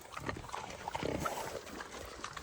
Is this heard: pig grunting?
yes